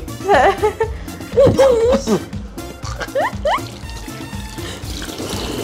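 Running water splashes over salted fish being washed by hand, a steady trickling pour under lively talk and bright vocal sounds from people nearby.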